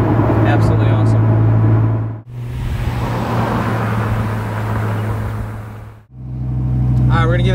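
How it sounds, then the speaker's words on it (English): A supercharged Dodge Viper GTS rolls in first gear, with a loud, close engine drone that holds steady and breaks off twice, briefly, under what sounds like a nearby voice. "this is what a supercharged Viper feels like"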